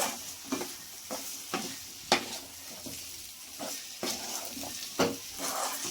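Chicken liver frying with spice powder in a pan, soft steady sizzle broken by repeated scraping stirs of a spoon against the metal, spaced about once a second, fairly quiet and close.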